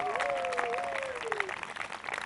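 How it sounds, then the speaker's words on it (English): Crowd applause for a town band patters on steadily while a high whistling tone glides downward early on. "How about another round of applause for the Harwich Town Band, ladies and gentlemen?"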